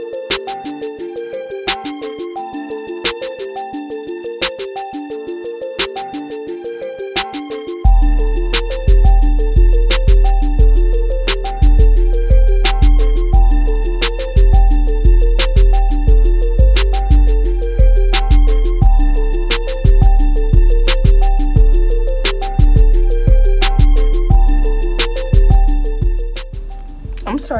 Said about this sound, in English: Sorry if y'all can hear my sister's music in the background.